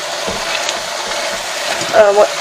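Chopped onion and green pepper sizzle softly in a pan, a steady low frying hiss with a few faint stirring scrapes near the end.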